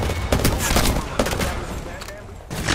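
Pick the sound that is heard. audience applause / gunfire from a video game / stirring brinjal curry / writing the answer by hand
gunfire from a video game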